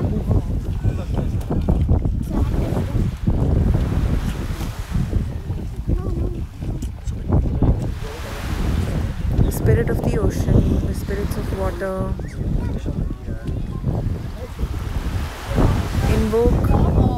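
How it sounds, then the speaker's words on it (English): Ocean waves surge and wash over wind buffeting the microphone, continuous and loud, while a voice talks over the surf for much of the time. "You can listen to the sound of the ocean."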